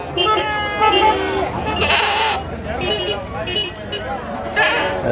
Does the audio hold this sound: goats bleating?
yes